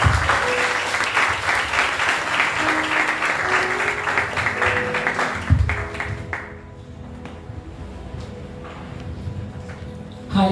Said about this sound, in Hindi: आज के कलाम का जोरदार ताली से स्वागत करते हैं